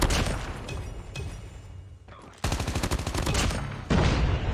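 Rapid AK117 automatic gunfire in a shooter video game, loud close bursts of fast repeating shots separated by brief pauses, with a voice talking during the action.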